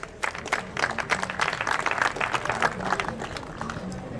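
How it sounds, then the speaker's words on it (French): An audience at an evening storytelling event claps for an honoree, a moderate, uneven burst of applause lasting several seconds, heard at some distance with a little crowd murmur. "on va applaudir M. Yen Nabagne."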